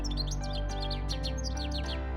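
Small birds chirp and tweet in quick repeated bursts over a steady background hum, fairly close and clear, with no talking.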